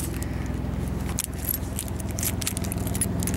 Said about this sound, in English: And here's the key.